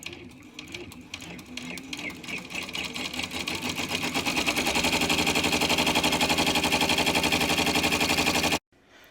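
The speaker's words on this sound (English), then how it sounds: "it'll do a placement stitch for my mask" An embroidery machine sews a placement stitch for a pleated face mask, a rapid, even mechanical chatter that builds in loudness and runs continuously before stopping abruptly near the end.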